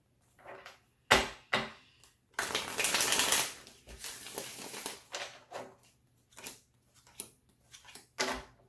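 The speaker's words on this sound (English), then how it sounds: "One more shuffle." Tarot cards being shuffled by hand in quiet surroundings, soft riffling and patting in irregular bursts with a longer flurry in the middle.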